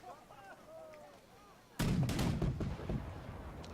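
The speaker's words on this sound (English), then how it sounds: "Cannon hitting my cannon in the centre." Cannon fire in the video game March to Glory, one cannon striking another: a sudden heavy boom about halfway through, followed by rolling echoing blasts over quieter battlefield ambience.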